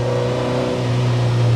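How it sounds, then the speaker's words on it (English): A Lotus Elise S1 sports car engine revs hard under acceleration, a loud, steady mid-range drone that climbs in pitch, close and continuous with no talking. "when you're stepping on it, the whole engine noise and the potentness does"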